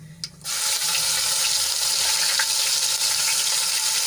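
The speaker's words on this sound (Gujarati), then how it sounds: "આદુ લસણ અને મરચાંની પેસ્ટને આપણે સાંતળી લઈશું" Ginger, garlic and chili paste hits hot oil tempered with mustard seeds, cumin and asafoetida, bursting into a loud, steady, close sizzle that holds evenly for several seconds without any talking.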